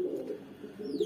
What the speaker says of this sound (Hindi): तो ये है कबूतर, नर कबूतर, मेल कबूतर